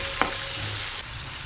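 Chopped onion fries in a pan with cinnamon, black pepper and cloves, giving a close, steady sizzle broken by a brief stirring scrape, with no talk.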